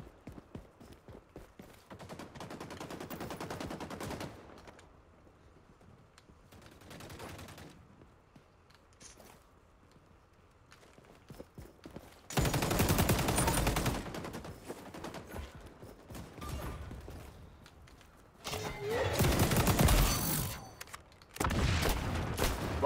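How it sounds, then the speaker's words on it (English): Heavy gunfire strikes the player's position in a multiplayer shooter on the Meltdown map, coming in loud, dense bursts of rattling shots near the start and again in long, intense volleys through the second half. "I'm getting shot, I'm getting shot"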